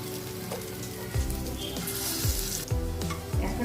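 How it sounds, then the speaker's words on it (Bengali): Soya chunk kofta balls frying in hot oil in a kadai, a dense continuous sizzle that swells as each piece drops in, with occasional clinks and scrapes. "এখন আমি আস্তে করে বড়াগুলোকে দিয়ে দেব।"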